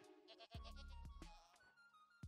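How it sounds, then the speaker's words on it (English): A screaming goat in the Minecraft video game lets out several sharp, strained bleats in quick succession, each a loud, harsh cry, followed by a final short bleat near the end, with no talking over them. "Is that the sound of a screaming goat?"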